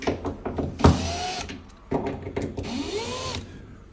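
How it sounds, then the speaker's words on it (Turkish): A power screwdriver loosens screws while a three-door wardrobe is adjusted during assembly, whirring in two close, loud bursts with rising and falling motor whines and some clatter of the panels. "Hemen burayı da abimin yardımıyla vidaları gevşetiyorum."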